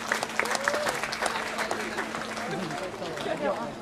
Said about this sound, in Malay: Sekali lagi saya nak dengar tepukan paling gemuruh.